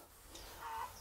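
Rhode Island Red chickens cluck softly in the background of a small poultry house, faint and brief against a low ambient hum.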